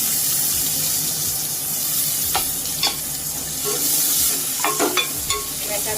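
Onion, ginger and garlic fry in a pan for a prawn curry, a continuous close sizzle with several sharp spoon clinks and scrapes against the pan near the end, no voices.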